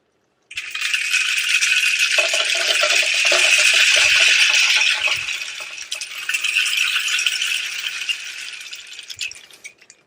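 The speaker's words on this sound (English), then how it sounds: "So I'm going to put some beans in there first. I'm just going to hold the bag up to the hole." Dried beans pour from a bag into a homemade hand shaker, making a steady, dense rattling patter that swells and thins over several seconds, close and alone.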